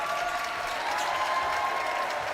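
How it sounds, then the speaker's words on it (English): Crowd at a Yeshiva Macs versus Purchase Panthers basketball quarterfinal giving a standing ovation after a victory, a dense continuous wash of applause filling the arena at steady loudness. "As big standing ovation from the crowd as the Macs come out here with a resounding victory"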